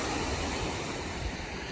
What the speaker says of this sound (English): But now we're right along the ocean front.